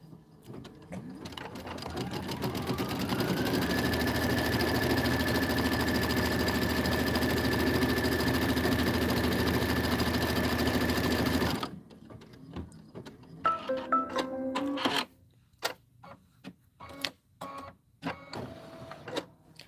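An embroidery machine runs steadily for about twelve seconds stitching a leaf outline, a loud continuous mechanical whir with a rising hum at the start, then stops abruptly, followed by scattered handling clicks and knocks.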